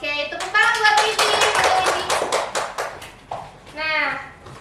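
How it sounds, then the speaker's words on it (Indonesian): Classroom applause for a student during a micro-teaching practice lesson: a dense burst of many hands clapping for about two seconds, with children's and a teacher's voices before and after. "tepuk tangan buat Ridi"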